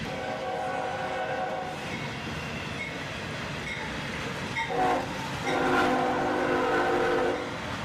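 A southbound CSX intermodal train rolls past on the other track, a steady rumble and rail noise at moderate distance, with tonal wheel or horn-like notes rising briefly near the end.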